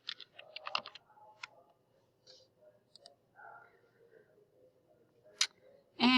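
Typing on a computer keyboard: irregular quick clusters of crisp close key clicks separated by short pauses, fairly quiet, with some soft whispery breath sounds between.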